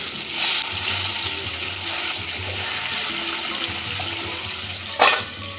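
Boal fish sizzling in hot mustard oil in a pan, a steady bubbling fry noise with a sharp splash-like burst near the end.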